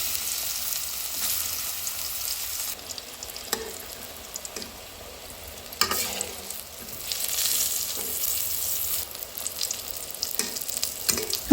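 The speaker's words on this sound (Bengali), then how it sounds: "এরপর এই গরম তেলের মধ্যেই দিয়ে দেব কেটে রাখা বেগুন।" Cut brinjal fries in hot oil, a steady soft sizzle with bursts of louder crackling and occasional stirring clinks, close and without talk.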